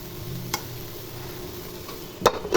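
Carrot and spring onion stalk fry sizzles steadily in a pan, close and fairly loud. A light knock comes early and a couple of utensil clatters come near the end.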